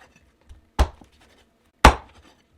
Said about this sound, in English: and chop it into small pieces